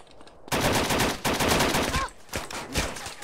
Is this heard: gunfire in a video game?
yes